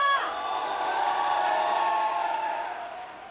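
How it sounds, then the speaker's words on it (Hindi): A studio audience at a hip hop dance reality show cheers and applauds for a departing dancer: a loud, sustained wash of crowd noise that holds steady, then fades slightly near the end. "अरविंद के लिए तालियां."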